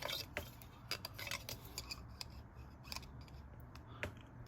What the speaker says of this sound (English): We just take some cutters, we take the piece, measure it off a little bit